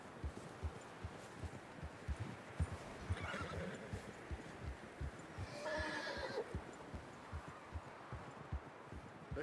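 A horse in Red Dead Redemption 2 whinnies loudly twice over a steady run of clip-clopping hooves, with rustling in the background and no talk.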